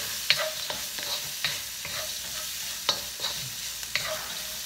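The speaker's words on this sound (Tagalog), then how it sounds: "So, medyo lulutuin lang po natin yung luya." Ginger sautés in a pan for ginisang upo, a soft sizzle broken by repeated scraping strokes of a spatula stirring close by, with no voices.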